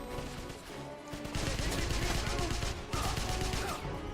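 M1 Garand rifle fire in the video game Wolfenstein (2009, Xbox 360), a loud, rapid, sustained volley of shots that pauses briefly near the end before another burst resumes.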